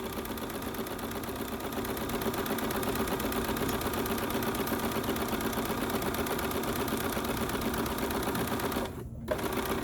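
A sewing machine back stitches fabric sleeves, a rapid steady mechanical whirring and needle chatter running continuously at close range, with a brief pause near the end.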